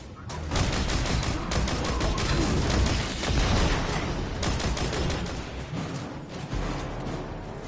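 Sustained gunfire and explosive blasts from the video game Destiny 2: The Witch Queen, loud and dense throughout with rapid bursts, booms and continuous weapon noise, no talking.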